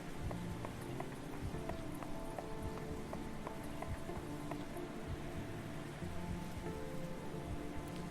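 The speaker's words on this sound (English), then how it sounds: "Riding through the woods on a horse with no name." Video-game horse hooves clip-clop at a steady, even trot through woods, moderately close, mixed with a constant hiss like rain and no talking.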